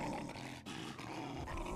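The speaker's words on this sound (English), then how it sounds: "No, that's a dog." A dog in the video game Gorn gives a loud, rough growl that carries on for nearly two seconds, with a brief dip partway through, and no one speaks over it.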